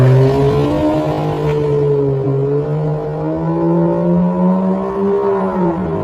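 A 6.5-liter naturally aspirated V12 hypercar engine screams loud and close at high revs, holding a steady wailing pitch that dips slightly and climbs again, with no talk.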